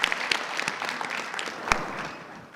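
An audience at a fan panel with Dragon Ball Z English voice actors claps, a steady patter of applause with a few louder close claps standing out.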